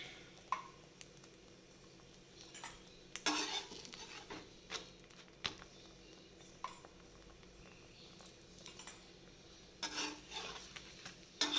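Parotta frying in oil on a pan, a quiet steady sizzle punctuated by intermittent scraping and clattering of a spatula against the pan.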